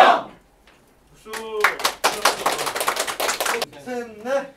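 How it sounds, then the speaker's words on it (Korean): A group of campaign volunteers at cheer practice claps in quick, sharp, rhythmic bursts for a couple of seconds, close and loud, with chanting voices before and after. "박수"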